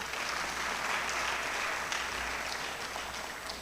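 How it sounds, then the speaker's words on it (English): Audience at a geopolitics conference in Kampala breaks into steady, sustained applause, a dense wash of clapping filling the room for several seconds without speech. "you'll give him another round of applause"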